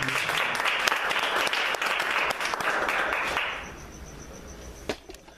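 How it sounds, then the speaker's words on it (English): A church congregation claps hands together in a dense, loud burst of applause that fades out after about three and a half seconds, leaving a quieter room with a couple of stray claps. "Clap hands for the men of God."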